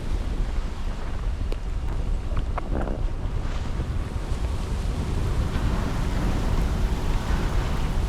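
Strong wind and rain at sea aboard a sailboat on a rough North Atlantic crossing at night, a steady loud roar of gusts buffeting the microphone with broadband wash of water and no voices.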